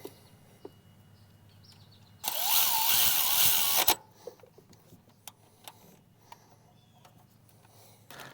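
A power tool whirs in one loud burst of about two seconds while a bracket is bolted back onto a Duramax engine during a head gasket job, followed by scattered light ticks and clinks.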